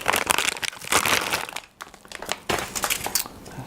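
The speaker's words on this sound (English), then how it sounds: "Now let me find a knife and cut this open." A knife cutting open plastic packaging around a spool of red PLA 3D printer filament, close crinkling and crunching of the wrapper with a brief pause midway.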